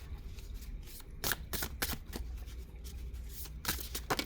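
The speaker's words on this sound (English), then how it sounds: "it's about the size of my hand, so shuffling isn't too bad." Thick, hand-sized oracle cards on solid card stock are shuffled in quick papery riffles and bursts of flicking, close but fairly quiet, with no talk.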